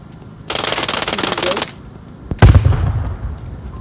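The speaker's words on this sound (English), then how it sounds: "Nade coming over the Oh. top." Gunfire crackles in a dense burst and a grenade explosion booms shortly after, both loud and close, during a competitive online video game match.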